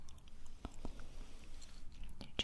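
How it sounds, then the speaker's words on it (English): Chewing gum is worked slowly in the mouth after the candy has dissolved, giving soft, close, moist clicks and smacks at an irregular pace over a quiet background. "chewing gum"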